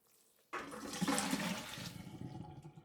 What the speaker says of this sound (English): So you drain the water.